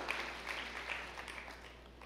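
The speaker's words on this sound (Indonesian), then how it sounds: "Yang setuju berikan tepuk tangan yang meriah." Church congregation applauding during a sermon, a dense, continuous patter of many hands clapping at moderate distance, gradually thinning out toward the end.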